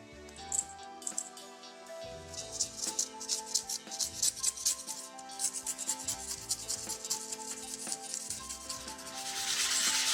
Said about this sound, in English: I can sand a little bit the aluminum in the back